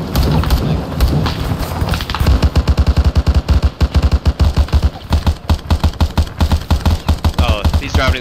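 Rapid automatic gunfire from several weapons opens an ambush on a fortified enemy position in Arma 3, loud rattling bursts that start sparse and then hammer in quick rhythmic volleys.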